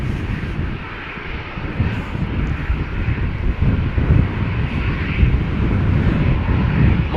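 Aer Lingus Airbus A320 jet taking off from Schiphol, bound for Dublin, a loud rushing engine roar that builds and swells over several seconds, with some wind buffeting on the microphone.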